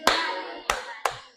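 Three sharp hand claps ring out close and alone, the first followed by a pause, then two in quicker succession, each with a short reverberant tail.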